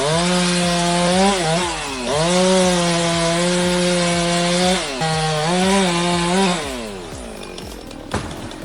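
A chainsaw cuts into a tree while a climber works at height: a loud, steady engine drone that rises and dips in pitch with repeated revs for most of the clip, then fades out near the end.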